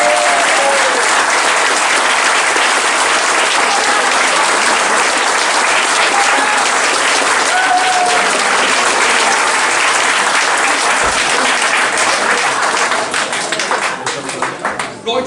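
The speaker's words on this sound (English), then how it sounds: "So can we just give a round of applause to all the volunteers?" A room full of people at a Halesowen Town FC end-of-season awards evening applauds the club volunteers with loud, dense, sustained clapping that fades out near the end.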